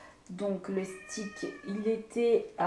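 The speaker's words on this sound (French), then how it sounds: "Excusez-moi, ça c'est mon chat." A pet cat meows repeatedly in short, insistent calls close by, overlapping someone speaking French throughout.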